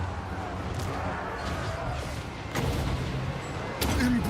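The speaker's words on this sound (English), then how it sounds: "unfortunately the mortars are still firing" Video game mortars firing: dull, heavy booms and thuds landing at irregular intervals through a busy, continuous battle din, moderately loud, with voices over the top.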